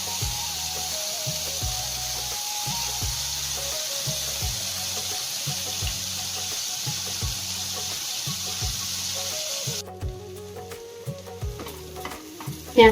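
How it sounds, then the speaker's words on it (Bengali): Onion paste with black cumin sizzles steadily in oil left from frying pomfret, with a spatula scraping the pan in a regular rhythm about once a second. Near the end, a brief clatter and splash of water come through. "পেঁয়াজটা লাল করে ভাজা হয়ে গেছে"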